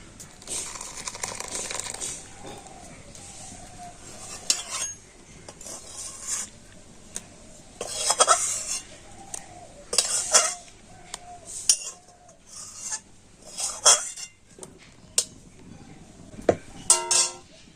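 Milk curds for chhana being strained through a clean white cotton cloth, with irregular rubbing, squeezing and rasping sounds in short bursts and occasional clinks of a vessel, close up, with a voice speaking now and then.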